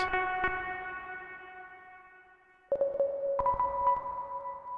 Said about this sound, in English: throwing on a convolution reverb and then maybe pitching it up, by double, kind of like this.